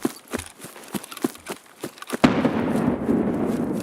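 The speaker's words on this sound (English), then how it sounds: "Grenades going off over there too." Grenades detonating in a first-person video game match, a run of sharp, fairly close pops spaced about every quarter second, then a sustained rumbling burst that rolls on loudly to the end.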